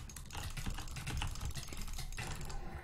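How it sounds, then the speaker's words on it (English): During Minecraft gameplay, rapid clicks rattle continuously and fairly quietly in a fast, uneven patter with no talking. They sound much like keyboard typing. "I was clicking so fast, but I wasn't clicking that."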